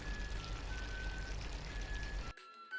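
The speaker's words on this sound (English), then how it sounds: "add just a little bit water" A little water is poured into a vegetable sauce with chicken, a steady splashing pour that stops abruptly near the end, leaving faint background sound.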